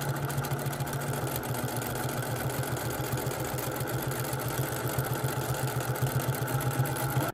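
A sewing machine stitches steadily in free-motion quilting as fabric is guided by hand, giving a continuous mid-pitched mechanical hum with a fast, even pulsing of the needle throughout, fairly close and without pause.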